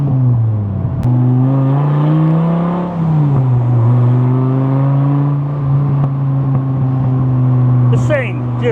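A 2004 Dodge Viper engine drones steadily while driving in second gear at about 3,000 RPM, with a deep, loud tone that rises slightly and dips, and someone talks over it from inside the car.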